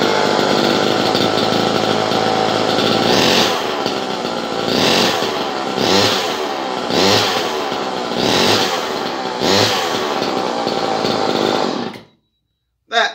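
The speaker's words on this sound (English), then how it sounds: "This is how you do not start a chainsaw." An old 1980s Homelite chainsaw with a loose chain runs loudly and roughly, its two-stroke engine revving up and down in repeated surges for about twelve seconds before cutting out abruptly.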